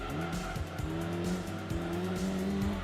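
A Spoon Honda Civic race car in the video game Gran Turismo 2 revs hard toward an 11,000 RPM redline, its engine note rising and dropping in repeated quick sweeps as it shifts through gears.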